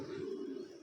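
A pet pigeon from a breeding pair gives a low, steady cooing murmur, close and continuous for under a second with no other sounds.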